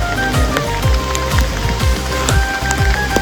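Rain falling on the Palabaddala road up Sri Pada in misty weather, a loud steady patter with scattered droplet hits and no talk.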